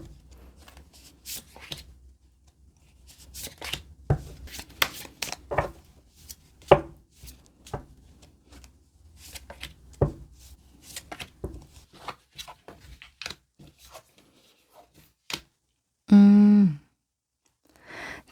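A deck of tarot cards is shuffled by hand close up, with rapid crisp riffles, slaps and taps in uneven bursts and short pauses, ending in one loud, dense flurry.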